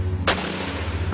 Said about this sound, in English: a flurry of panicked gunfire breaks out between the Marshals and the boys.